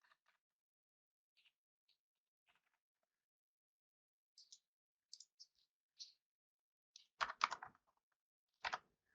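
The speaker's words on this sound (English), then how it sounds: "which you'll also have to type in twice" Someone types a bank account number on a computer keyboard, giving sparse, quiet key taps that build to a short, louder burst of clicks near the end, heard alone in a silent room.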